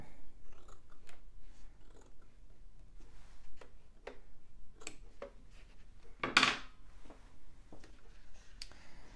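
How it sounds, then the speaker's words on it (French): Scissors trimming excess fabric while sewing a patchwork pouch, heard as a few faint snips and light clicks followed by one louder, brief cut near the end, in a quiet room. "Je coupe l'excédent de tissu."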